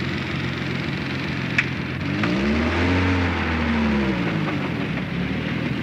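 Car accelerating past on a French film set, engine rising from a low rumble to a loud revving pass, then fading as it moves away, over steady outdoor background noise with no talking.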